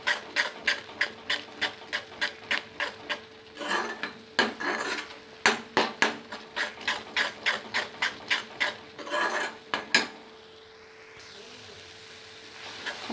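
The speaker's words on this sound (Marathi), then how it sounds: "हे आता व्यवस्थित आपण फ्राय करून घेऊया ह्याच्यात मसाल्यामध्ये।" Garam masala being fried and stirred in a pan for kala chana usal, heard as a steady run of rhythmic scraping strokes, close and fairly loud, with short pauses between bursts and no talking.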